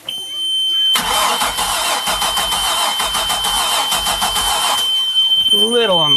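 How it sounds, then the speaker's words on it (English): A cold boat engine cranks on the key with a fast, steady starter chug for about four seconds, loud and close, then stops without catching; a voice speaks briefly right after. "Alright, we're going to turn the key and watch her fire up."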